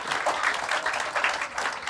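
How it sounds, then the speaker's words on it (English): Audience applause at a Sesame Street mental health awareness event, a steady wash of many hands clapping at moderate level with no talking. "Can we get a round of applause for our guests?"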